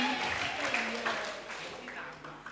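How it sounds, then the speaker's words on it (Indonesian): Applause from a school audience after a student group's theatrical poetry performance of M. Yamin's work, a short burst of dense clapping with faint voices mixed in, fading slightly toward the end. "Oke, sekali lagi beri tepuk tangan."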